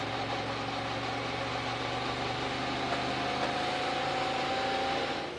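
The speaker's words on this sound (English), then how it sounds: "There's nothing that sounds worse than all them things starting to come apart in a V8 engine." A V8 race car engine failing during a NASCAR Cup Series dirt race at Bristol Motor Speedway roars in a continuous, harsh drone at close range, with a rough mechanical rattle and no voices.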